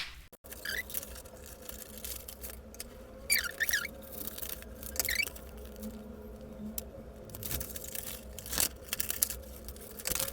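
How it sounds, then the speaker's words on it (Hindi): Tape pulled and torn from a roll and pressed onto a paper blazer collar pattern, several short crinkling rips and squeaks spread over ten seconds against a quiet room hum. "तो हम टेप लगाएंगे।"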